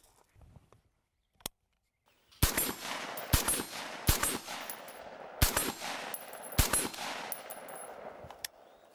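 A Stag Model 1L left-handed rifle fires a series of sharp, loud shots outdoors at uneven intervals, each crack trailing into a short echo, with a couple of faint clicks before the first shot.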